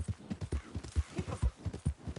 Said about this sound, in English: That horse sure don't like you.